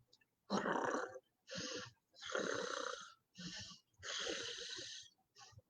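A voice imitates snoring: six drawn-out, raspy snore sounds in a steady rhythm with brief pauses between, close and fairly loud.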